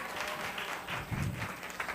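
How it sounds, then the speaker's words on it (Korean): A youth worship congregation applauds together in a church hall, a steady wash of clapping held throughout the short moment without talk. "선물을 전달할 때 박수로 축하해 주세요."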